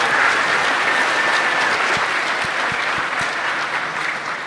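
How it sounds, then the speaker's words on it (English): A DEF CON conference crowd applauds two speakers arriving for a PCI Express hardware talk, a dense, continuous wash of clapping that stays loud throughout. "give them a round of applause."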